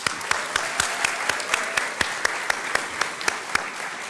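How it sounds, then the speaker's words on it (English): Audience at a university School of Education hooding ceremony applauds a graduation speaker, a full wash of clapping with regular sharp accents from a few nearby hands cutting through at a steady beat. "Let's give another round of applause for Tori Quill."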